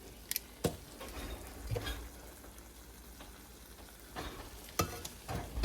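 Pork chops being turned over and sizzling in a frying pan on an electric stove, a soft steady fry with a few scraping and tapping sounds from stirring, heard close and fairly quiet.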